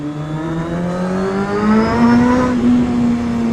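A motorbike engine on a ride pulls up through the gears, its tone climbing steadily and loudly close by, with a brief shift before rising again.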